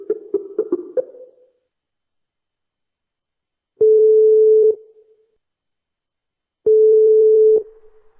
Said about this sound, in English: Let me dial the cell number she's replied with.